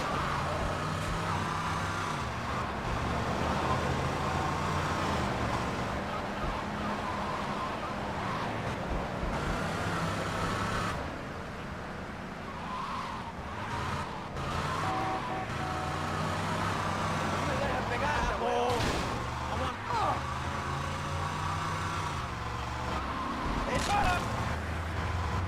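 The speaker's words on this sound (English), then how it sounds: "A lot of big trucks out here. A lot of bigger vehicles driving around this area." Road traffic in the video game GTA, with big trucks and other heavy vehicles driving past, making a steady, loud engine rumble and passing roar under a voice.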